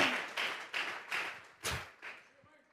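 A church congregation at a Sunday service claps hands in rhythm, with about six sharp, roughly evenly spaced strong claps close by, each fading quickly.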